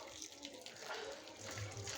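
Boiling water pours onto tripe and intestines being cleaned by hand, a faint, continuous splashing trickle heard close by.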